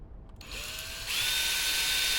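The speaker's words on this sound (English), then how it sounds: "all I do is I'll drill a hole down the center of these" A power drill spins up and bores a hole down the center of a short wooden support stake, its whine starting low and rising into a steady, loud high-pitched drone.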